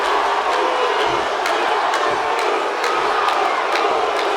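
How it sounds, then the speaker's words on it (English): A roaring arena crowd in the WWE 2K wrestling video game chants a wrestler's name, Uso, in a steady rhythmic pulse that rises over a loud, dense wall of cheering. "The crowd seeming to be in favor of Jey Uso, chanting Uso."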